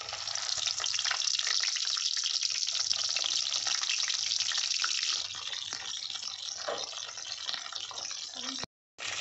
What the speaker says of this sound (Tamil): இப்போ ஒவ்வொரு கத்திரிக்காயும் அந்த எண்ணெயில் போட்டுடலாம்.